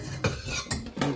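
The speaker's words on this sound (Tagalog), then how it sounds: "Kaya ngayon ilalabas ko muna yung kaldero." A metal cooking pot is pulled out and handled in a home kitchen while preparing sinigang, giving three short clanks and scrapes, fairly close and alone.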